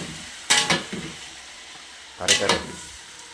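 Pork pieces hit a hot pan for kare-kare, giving two short bursts of loud stirring sizzle about two seconds apart over a quieter background, with a voice speaking briefly.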